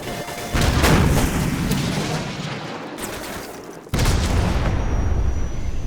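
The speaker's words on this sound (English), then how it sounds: "So, grab another Stinger and fire again." Stinger missile launch in Call of Duty 4 Remastered: a loud burst of gunfire-like booms and roaring noise, dipping briefly before a second sharp, heavy blast near the end, with no voices.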